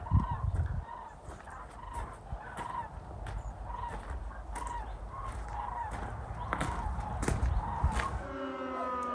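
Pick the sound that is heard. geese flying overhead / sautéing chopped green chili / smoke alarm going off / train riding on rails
geese flying overhead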